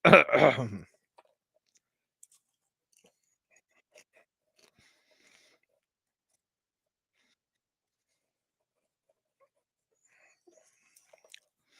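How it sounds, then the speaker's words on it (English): A single short throat clearing sounds close and loud at the very start, followed by near silence with only a few faint clicks and taps. "Let me clear my throat."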